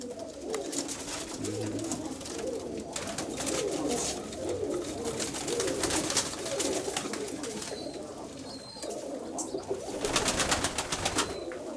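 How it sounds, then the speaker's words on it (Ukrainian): Several vaccinated pigeons coo in overlapping, repeated rolling calls, close by and steady, with occasional rustling and background noise. "Ну, голуби нормально себе почувають"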